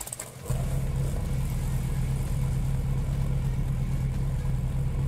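A Dodge Viper SRT-10 ACR-X engine in Roblox cranks and catches, then settles into a steady, low rumbling idle with a constant hum, close and uninterrupted by voices.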